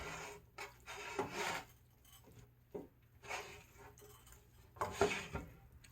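Red and green cabbage tossed together with sautéed peppers, giving soft, irregular rubbing and rustling scrapes in several bursts, close and fairly quiet, with no talking.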